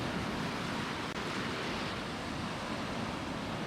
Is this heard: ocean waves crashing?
yes